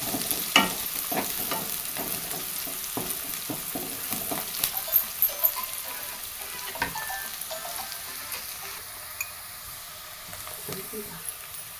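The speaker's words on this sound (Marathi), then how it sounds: "चांगला कांदा परतून घेऊया आपण आता, मस्त लाल होईपर्यंत" Chopped onion and cumin frying in oil, stirred with a spoon in irregular knocks and scrapes over a soft steady sizzle, the stirring easing off in the latter half.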